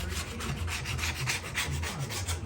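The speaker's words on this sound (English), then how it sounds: "So you can see how easy this scrapes off." A hand scraper strips old paint off a cast part of a Deckel FP1 clone milling machine, giving close, steady rasping strokes in a quick regular rhythm with no talk.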